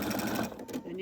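A sewing machine stitches along a fabric edge in one brief, close whirring run of rapid needle strokes.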